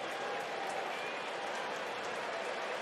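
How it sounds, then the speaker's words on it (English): Baseball stadium crowd at a Royals vs Cardinals game, a steady broad wash of murmuring and light cheering that stays fairly faint and even throughout, with no standout bursts. "Crowd trying to come alive a bit."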